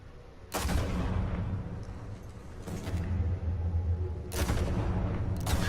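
Gunfire in Batman: The Telltale Series video game: four loud, booming shots spaced a second or two apart, each with a rumbling tail over a low background drone, and no one speaking.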